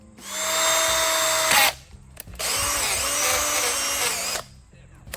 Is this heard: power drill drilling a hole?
yes